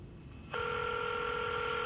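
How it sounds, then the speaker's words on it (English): A quiet room hum in a video game's sealed office, then a steady telephone dial tone switches on abruptly and holds at a constant, fairly loud level. "A dial tone echoes through the quiet space before the call is answered."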